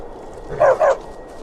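Two short barks from a dog companion in the Skyrim video game, moderately loud and close, spaced quickly one after another over a faint game background.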